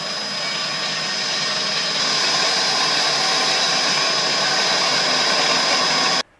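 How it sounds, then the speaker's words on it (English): A small metal-cutting bandsaw runs steadily through knife handle scale material, a loud continuous whirring whine with a sharp high tone that holds for about six seconds and then cuts off abruptly. "Well, we'll try my little metal bandsaw."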